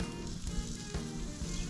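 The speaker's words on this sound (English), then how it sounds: "Listen to that sizzle." Steady, loud sizzling of steak on a hot gas grill, a continuous crackling hiss with small pops throughout.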